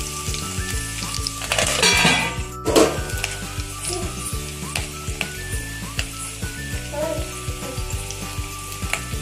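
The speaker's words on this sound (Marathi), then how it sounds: "कढीपत्ता मी टाकणार आणि लगेच झाकण लावणार आहे, कारण की इकडे तिकडे त्याचं तेल उडतं" Finely chopped curry leaves hit hot oil for kadhi tempering with a loud, crackling sizzle that swells early on, then settles into steady frying with small pops and a clink or two of a pan.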